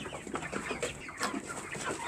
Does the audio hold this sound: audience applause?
no